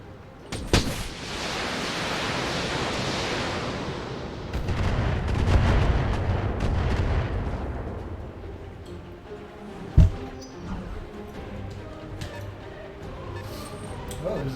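Mech weapons fire in the BattleTech video game as a dense roaring barrage that fades, later punctuated by a single sharp blast, with low rumble underneath.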